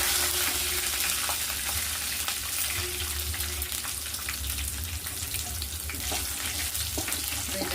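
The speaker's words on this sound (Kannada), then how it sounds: "ಈಗ ಸ್ವಲ್ಪ ಶುಂಠಿ, ಬೆಳ್ಳುಳ್ಳಿ ಹಾಕ್ಕೊತೀನಿ." Ginger and garlic frying in oil with lentils and peanuts for tomato chitranna, giving a loud, steady sizzle with occasional stirring scrapes throughout.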